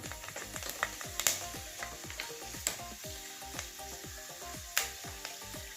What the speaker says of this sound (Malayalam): ഉലുവയും കൂടെ ഇതിനകത്തേക്ക് ഇടുവാണ്